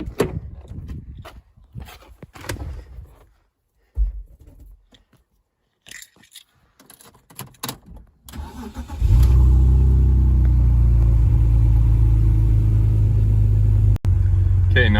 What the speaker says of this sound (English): I'm gonna go and start the engine.